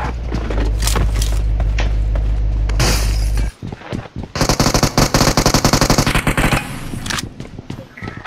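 Automatic gunfire in a multiplayer shooter video game: rapid, loud, rattling bursts fire repeatedly through the middle of the clip, following a low rumble and sharp shattering hits.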